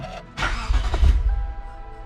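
A car engine on a supercharged setup cranks briefly to break a bolt loose, giving a short rough churning burst that builds then fades over about two seconds, nearby with no talking.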